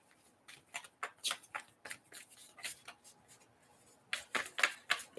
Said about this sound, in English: Let me just shuffle this one really quick